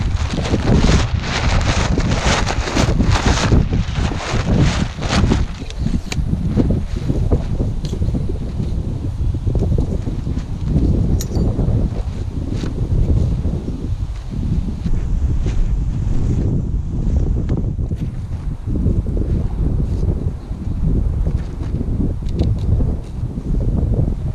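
Strong wind buffets the microphone throughout, a loud, continuous low rumble with gusts and no voices.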